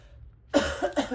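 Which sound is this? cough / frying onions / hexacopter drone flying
cough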